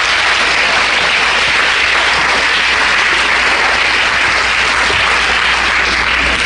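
A church congregation applauds the Lord during a Holy Week service, a loud, continuous wash of clapping and crowd noise that holds steady from start to finish without individual claps standing out.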